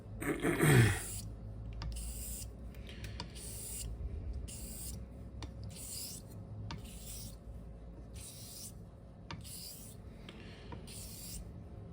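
Straight razor blade honed on a Japanese natural finishing stone, a rhythmic series of soft rasping strokes, about a dozen back-and-forth passes, close and quiet with no talk.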